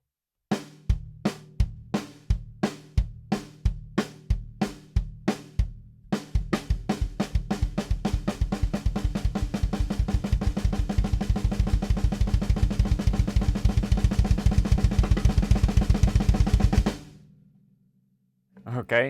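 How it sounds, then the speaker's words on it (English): A drum kit played with alternating single strokes between hands and a double bass pedal, in a lick. Spaced hits at first, then a fast, dense, even roll that runs for about ten seconds before stopping abruptly. "you'll need to be able to play the alternating hand-foot singles"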